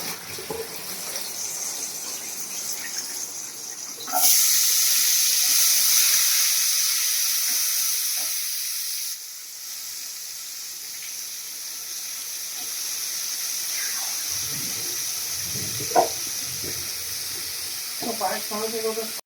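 Kitchen tap runs in a steady hiss while green chilies are washed in the sink, loudest in the middle stretch, then softer with light handling clatter near the end.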